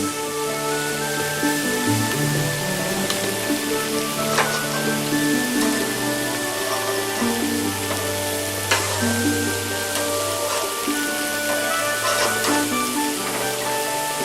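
Steady, dense sizzling of food frying on a hot outdoor grill, loud and continuous throughout, with occasional faint clinks and scrapes.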